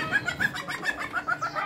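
A civet gives chirping, squeaky calls while mating, several short repeated chirps in quick succession, close and moderately loud.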